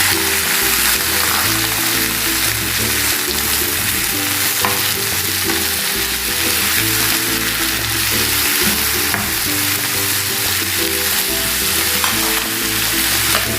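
Chicken frying in a pan with well-browned onions and chilies for a Tamil Nadu chicken chintamani, a steady loud sizzle with stirring scrapes running throughout, no voices.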